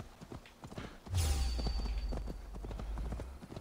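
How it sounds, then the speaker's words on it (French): Horse hooves clip-clop in Assassin's Creed Valhalla, a quick steady rhythm of close, clear steps that grow louder midway as the horse is mounted, over a low rumble. "Je vais lui piquer son cheval."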